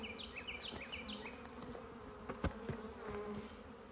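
Honeybees hum in a steady, soft drone around an open nuc hive during a beekeeper's inspection, with occasional light clicks and knocks of frames being handled and no talking.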